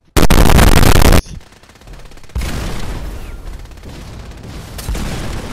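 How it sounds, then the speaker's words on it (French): An enemy opens fire on the player in modded Fallout 4 on PS4 with a launcher-type weapon: a very loud, saturated blast lasting about a second, followed by a lingering rumble and scattered impacts. "Mec, il me tire dessus au lance-missile cocktail Molotov."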